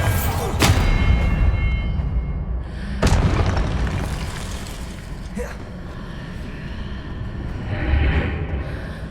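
Expelliarmus spell blasts in the Hogwarts Legacy video game: several deep booming explosions a few seconds apart, loud and close, with a rumbling backdrop between hits.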